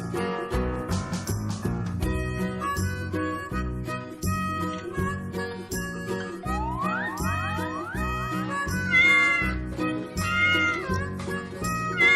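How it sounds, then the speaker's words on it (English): A cat meows within a busy music bed, several meow sounds rising and falling over steady background music, loud and close, with no talking. "A cat goes meow, meow."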